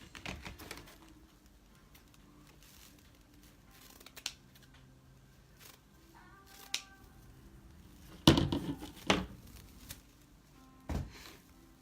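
Scissors snip through deco mesh ribbon for a wreath, with a few crisp cuts and rustling of the mesh, close and fairly quiet, amid soft handling noises; no talking.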